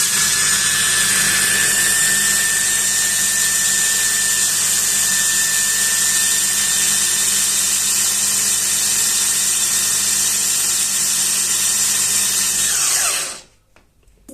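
A Vivess multi chopper runs at its second speed, chopping nuts into crumbs with a steady, loud motor whine and rattling blades that hold for about thirteen seconds before stopping abruptly.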